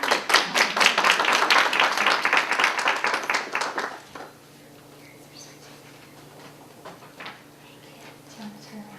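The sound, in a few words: audience applause at poetry contest awards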